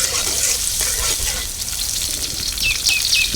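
Onions fry in a pan with ginger, chili and garlic paste, giving a steady loud sizzle with scraping stirs throughout and a few faint high chirps near the end.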